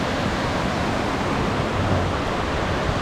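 A waterfall in Seoraksan's Twelve Fairy Pools valley rushes in a dense, even roar that holds steady throughout, with no voices.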